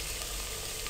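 Onions, bay leaf and cumin fry in a handi for namkeen mutton, a continuous even sizzling hiss over one brief moment, close and steady with no talking.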